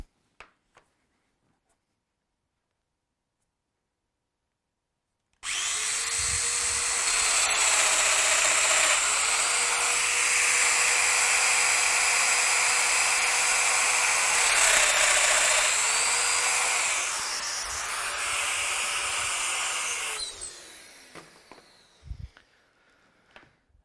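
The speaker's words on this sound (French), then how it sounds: "Maintenant, je fraise les deux autres." Festool Domino joiner milling mortises in wood for a cabinet joint: a loud, close, high whine that starts suddenly after silence, holds for about fifteen seconds with slight pitch dips as it cuts, then winds down.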